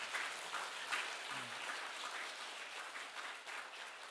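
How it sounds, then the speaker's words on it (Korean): Congregation applauding during a Sunday church service, a steady, fairly faint wash of hand claps lasting the whole stretch with no talk over it. "여러분 우리 수고하셨다고 박수 한번 부탁드립니다."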